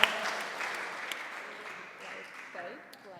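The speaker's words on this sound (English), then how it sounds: "Round of applause, please." A round of applause from a room of people fades in after a sharp opening clap, a steady wash of hands that thins toward the end while a voice speaks over it.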